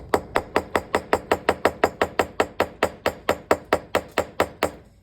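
Hammer blows strike a metal rivet to flare its end, more than twenty sharp, evenly spaced metallic strikes in a quick steady rhythm, close and loud with nothing else around them.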